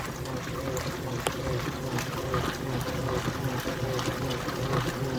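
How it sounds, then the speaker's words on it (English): A Maytag commercial top-load washer runs a power wash cycle with the lid up, filling with water in a steady close rush and trickle over a low motor hum, with faint speech-like murmurs in the background. "The power wash brings the water all the way up to the top,"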